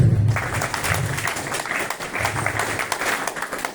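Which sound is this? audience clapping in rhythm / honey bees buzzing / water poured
audience clapping in rhythm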